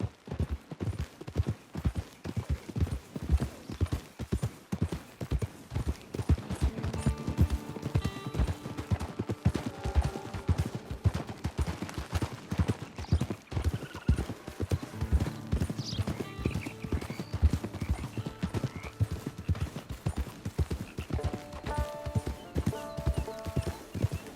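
Horse hooves clip-clopping steadily in Red Dead Redemption 2, a continuous rhythmic trot through the whole stretch with game music and ambience underneath, loud and close.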